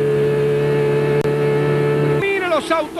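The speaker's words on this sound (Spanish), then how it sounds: "Mire los autos saliendo en la recta." A loud steady engine drone holds, then Turismo Carretera race cars roar past on the straight at Rafaela in 1996 and rev up, their pitch sweeping as they accelerate away.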